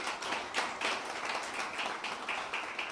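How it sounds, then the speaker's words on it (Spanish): Congregation at a church service clapping together in a sustained round of applause, moderately distant and soft, with no talk over it. "Demos un fuerte aplauso al Padre Eterno por esa verdad."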